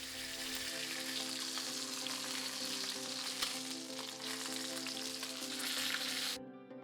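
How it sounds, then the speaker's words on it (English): Beef browning in a hot pan with its fat caramelizing, giving a steady, dense sizzle and crackle at moderate volume that runs unbroken for several seconds before cutting off. "I also like to start off the cooking process prior to roasting by browning the outside of the beef"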